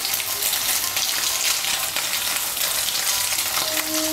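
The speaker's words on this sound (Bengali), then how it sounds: "সয়াবিনটাকে আমি ভালো করে ভেজে নেব" Soybean chunks fry in a pan with turmeric and salt, giving a steady, loud, close sizzle throughout with a faint stirring clatter near the end.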